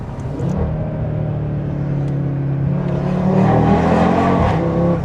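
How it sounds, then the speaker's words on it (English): An Audi RS3 fitted with a custom downpipe drones steadily from inside the car while driving under a bridge. The deep exhaust rumble grows louder and fuller in the second half, with no talking. "Who knew an RS3 could sound like this?"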